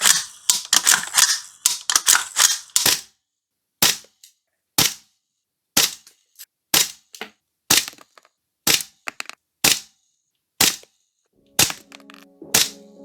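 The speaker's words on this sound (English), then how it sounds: "Give the bolt a few solid drags and we're locked and loaded." Airsoft TM MWS rifle fitted with NPAS, Z plate and GM bolt: a quick burst of sharp bolt-cycling clacks, then a steady series of loud, crisp single shots spaced about a second apart, each a sharp crack, close and with no voices.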